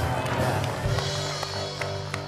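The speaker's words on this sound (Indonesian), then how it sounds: "Tepuk tangan dong buat Trans" A TV studio audience claps and murmurs in a steady, moderately loud wash of applause, with occasional sharper claps standing out.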